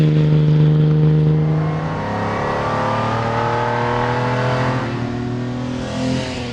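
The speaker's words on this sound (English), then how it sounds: "The transmission is a 4-speed straight cut gearbox, so it creates a tractor-like sound, if you will." A 1955 Mercedes-Benz 300SL Gullwing with an inline-six engine and a four-speed straight-cut gearbox revs close by, a smooth, rich harmonic drone that rises and falls, holding strong throughout with no voices.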